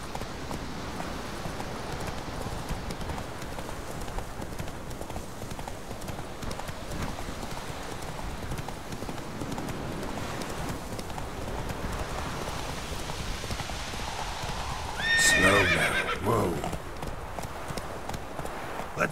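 In The Witcher, a horse's hooves clip-clop steadily over a soft, rain-like hiss, and a short, sharp whinny rises near the end.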